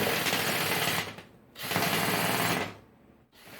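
A drill spins a homemade duct-cleaning brush made of rope ends fixed with hot glue and knots, giving two loud whirring, flapping bursts about a second long with a brief pause between them.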